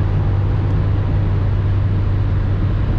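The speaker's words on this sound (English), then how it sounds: "And the heavy thing now accelerates like hell." A BMW X5 E53 4.4i V8 accelerates hard on the highway, heard from inside the cabin as a steady, loud, low engine drone blended with continuous road and wind roar.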